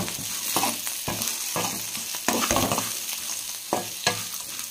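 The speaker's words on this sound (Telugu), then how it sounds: "కారం వేసుకున్న తర్వాత ఒకసారి కలుపుకుందాము." Broad beans frying in a pan as chili powder is stirred in, giving a constant sizzle broken by repeated close scraping strokes of a spoon against the pan.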